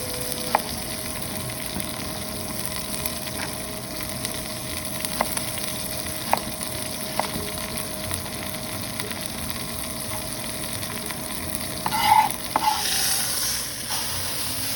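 Beef chunks sear in a hot pan for a beer-braised pot roast, a steady low sizzle running throughout with a faint tonal hum, a few soft clicks and a brief louder shuffle near the end.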